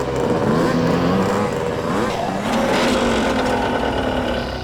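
Three motorbikes arrive with loud engine drone and revving, rising and falling pitch sweeps as they pass close by, continuous and fairly loud throughout.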